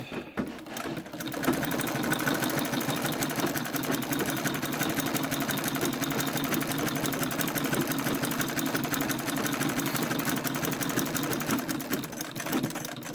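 A domestic treadle sewing machine stitches continuously around the edge of a fabric face mask, giving a steady, close, mechanical whirring hum that runs without a break.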